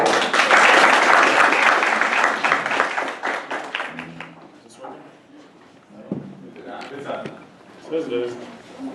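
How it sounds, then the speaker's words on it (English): A burst of audience applause for a marketing talk at a meetup, loud and dense at first, then thinning into a few scattered claps and handling noises as it fades. "let's give him a round of applause"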